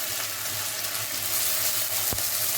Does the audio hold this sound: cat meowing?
no